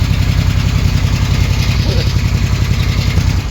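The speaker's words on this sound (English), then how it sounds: "back it outside and let it idle for a little bit" A cheap rescued motorcycle idling in a garage, a steady loud low rumble with even pulsing throughout, close up and unbroken.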